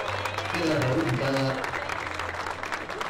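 Applause fills the air at the reopening ceremony of the remodeled Ixtapaluca Municipal Palace, steady crowd clapping throughout, with a voice speaking briefly over it near the middle.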